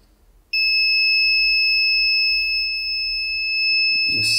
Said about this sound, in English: You see, we triggered the alarm.